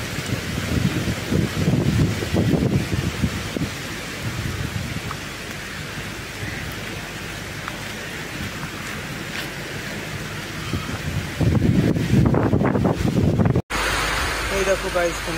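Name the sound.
heavy rain falling outdoors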